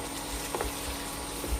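A tomato masala mixture for egg roast bubbles in a pan, a steady soft sizzling hiss with a few faint pops, close and unbroken, no talking.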